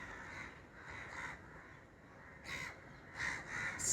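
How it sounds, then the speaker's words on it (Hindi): Crows cawing in BPT Park by the sea in Colaba, South Mumbai: several harsh caws come in separate bursts, one early pair and then a cluster near the end, over faint outdoor background. "कौवे"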